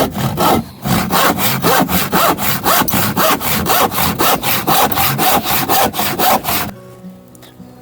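A hand saw cuts through timber for a garden cold frame in fast, even back-and-forth strokes, about twenty loud rasping passes close by, then it stops abruptly.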